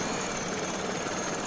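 Steady, dense whine and rotor rumble from an SA 315B Lama helicopter engine in a flight video game, constant and fairly loud with no talk.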